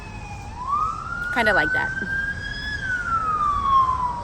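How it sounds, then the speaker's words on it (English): Ambulance siren on a main road at night, a single wailing tone rising and falling slowly at moderate distance, with a voice speaking briefly over it. "It's kind of sucks when there's like ambulance like in the middle of the night, because you can hear everything."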